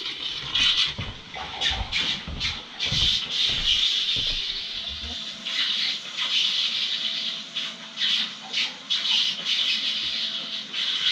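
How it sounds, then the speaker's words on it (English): Compressed air hisses and rushes out of a water line during RV winterizing, with sputtering bursts and occasional spits of water, steady and close, gradually thinning out. "So just air coming out of here now."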